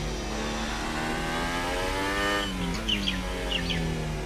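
F1 car engine from the F1 2018 game with a Honda power unit, a loud high-pitched rev that climbs, drops at a gear change and climbs again, with chirpy tyre or downshift squeals near the end.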